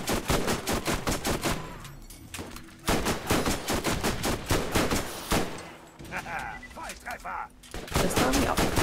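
Rapid bursts of gunfire from the video game Borderlands crackle in loud, close volleys separated by short pauses, with occasional chatter underneath.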